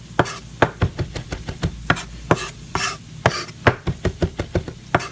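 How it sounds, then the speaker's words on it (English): A chef's knife chops through ingredients on a cutting board for chicken cacciatore, a steady run of sharp, close knocks at a brisk, even rhythm with no talking. "So we're going to chop this up."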